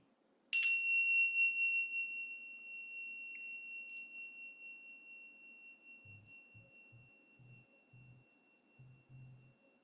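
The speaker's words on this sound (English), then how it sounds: "letting our attention follow the full resonance, timbre, and tone of the bell." A meditation bell is struck once, giving a bright, clear ring that hums on and slowly fades over several seconds, with a few soft low thuds near the end.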